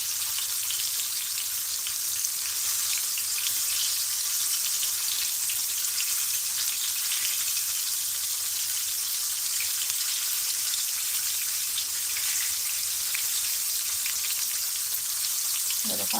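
Green tomato slices frying in a hot pan, giving a steady, dense sizzle that holds evenly from start to finish with no talking.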